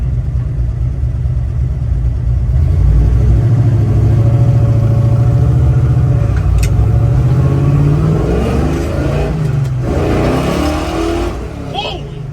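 A 1967 Chevrolet Chevelle's engine roars loudly while driving, its deep note swelling and climbing in pitch as it revs, then dropping back, with a voice briefly heard over it.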